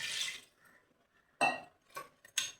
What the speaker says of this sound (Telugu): వాటర్ వేసేసుకుందాం.